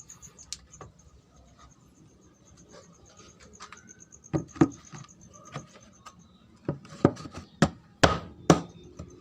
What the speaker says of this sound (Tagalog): So kakabit ko muna yung mga screw niya guys.